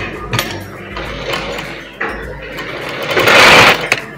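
A home sewing machine stitches a Chinese collar at close range in short bursts, with a louder whirring run near the end.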